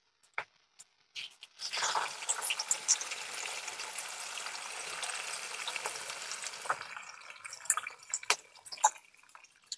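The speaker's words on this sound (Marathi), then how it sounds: "गरम पाणी घालून घेत आहे।" Hot water is poured into a simmering surmai fish curry on a medium gas flame, bringing a sudden loud, bubbling sizzle that holds steady for several seconds before easing into scattered drips and pops.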